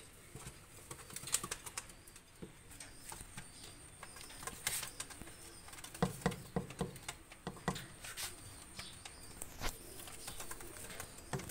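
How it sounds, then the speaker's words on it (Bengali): Two pigeons are let loose, with soft cooing and bursts of wing flapping against a faint, quiet background, the calls and flutters coming intermittently at close range. "দুইটা কবুতর আমি ছেড়ে দেখাচ্ছি।"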